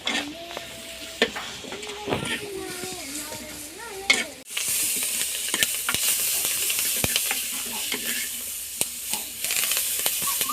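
Onion, green chilli and curry leaves frying in oil in a clay pot, with a loud broad sizzle that jumps up midway and carries on steadily, punctuated by stirring clicks and taps.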